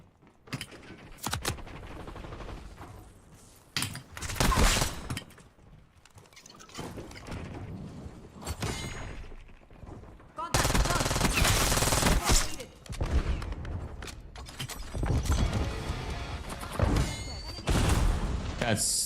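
Shotgun blasts ring out in a Fortnite-style battle game, coming in loud irregular bursts and clusters with gaps between them, mixed with scattered game effects and occasional talk.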